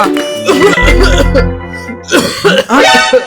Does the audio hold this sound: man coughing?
yes